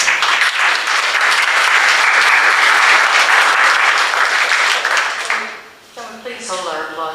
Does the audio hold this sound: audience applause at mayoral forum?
yes